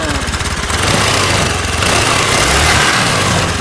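A carbureted Honda Vario 110 scooter with an ignition fault is tried for a start. A loud, rough mechanical churning runs continuously at close range, with a faint voice underneath.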